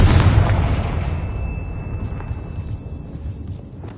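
Confringo fire spell exploding in Hogwarts Legacy inside a goblin mine, a single loud booming blast at the start that rolls off into a long fading rumble.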